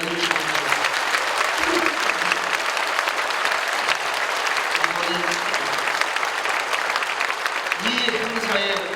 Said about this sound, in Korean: 우리 성도들 다시 한번 귀한 어르신들을 향하여 우렁찬 박수를 해주시기 바랍니다